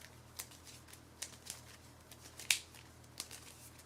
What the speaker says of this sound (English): Shuffle it into the deck.